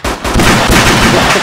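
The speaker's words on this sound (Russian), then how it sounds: "Это странный пулемет." Machine gun in the video game ArmA 2 firing a short, loud, dense burst of rapid booming shots, close and harsh, with no talk.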